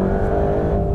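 A 730-horsepower Mercedes-AMG GT Black Series drives the Nürburgring, its engine a deep, steady roar heard from inside the car at high load.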